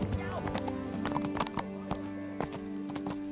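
Horse hooves clip-clop in the Kingdom Come: Deliverance video game, a steady series of sharp, close hoof strikes on hard ground, with someone talking over them.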